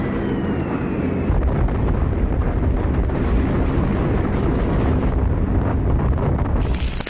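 Bombs from a B-29 Superfortress air raid striking a residential area, a continuous loud roar of rumbling explosions and blasts with no gaps, dense and close.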